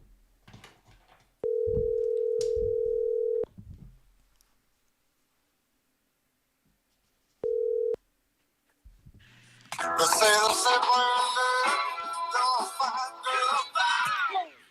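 A phone call is placed and a steady single-pitch tone sounds twice, one long stretch of about two seconds and a short half-second burst, separated by silence, followed by someone talking.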